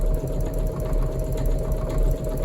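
A Singer EM200 embroidery machine runs a test stitch, giving a loud, steady mechanical whir with rapid rhythmic needle clatter and a constant low motor hum throughout.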